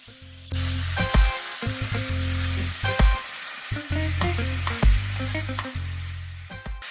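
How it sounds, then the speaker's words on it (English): Chicken pieces fry in hot oil in a pan for curry chicken, giving a strong, steady sizzle with a few louder bursts; low tonal sounds come and go underneath. "Now in my pan I have some oil and it's hot, so I'm going to transfer my chicken in it."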